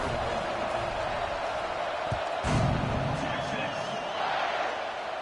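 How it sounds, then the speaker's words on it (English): Stadium crowd noise in the College Football 26 video game, a broad steady roar at a kickoff with a brief louder surge midway, heard under a commentator's voice. "They're set to kick it off, and this crowd now ready to get behind them."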